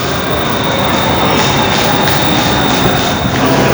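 A metro train runs at a station with a loud, continuous rumble and rushing roar that fills the whole stretch, close by and steady, with no one talking.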